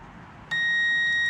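A multimeter continuity test beep on a minivan fuse switches on abruptly and holds continuously, a clean high tone against quiet background hiss.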